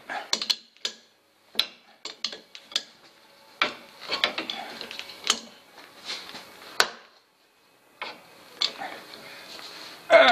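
Nuts being tightened on a heavy wooden base for a Vernet power hammer, giving a run of short, sharp metallic clicks and ratcheting taps, close and irregular, separated by brief pauses.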